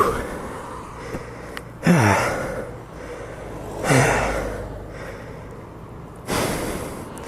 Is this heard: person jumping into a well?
no